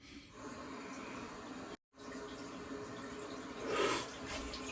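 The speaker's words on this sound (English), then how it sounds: "I'm gonna do a quick rinse," Tap water running steadily into a sink for a quick rinse after shaving, a continuous faint hiss broken by one short gap, then swelling briefly.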